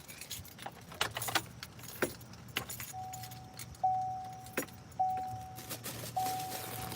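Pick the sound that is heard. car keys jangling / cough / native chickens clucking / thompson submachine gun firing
car keys jangling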